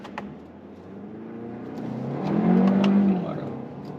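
A Kia Sportage engine accelerating up a hill, a steady rising drone that swells in the middle and stays under the cabin hum, heard from inside with no talk.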